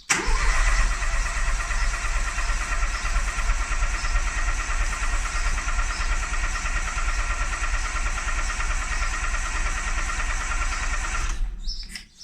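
A starter motor cranks the engine of a boosted Mini in a long, unbroken, loud churning run of about eleven seconds without catching, then cuts off abruptly.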